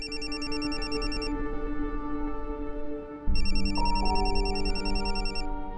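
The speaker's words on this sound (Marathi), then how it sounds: "नॅटचा फोन." A synthetic phone ringtone plays on its own, a repeating electronic melody that pauses briefly and then starts again, steady and fairly loud.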